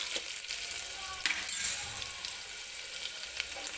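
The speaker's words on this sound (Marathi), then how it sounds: "मिरची थोडीशी तेलामध्ये व्यवस्थित भाजून घ्यायची आहे." Green chilies and whole spices frying in oil for jeera rice, a soft, fairly quiet continuous crackle and sizzle with small spits, heard alone without talk.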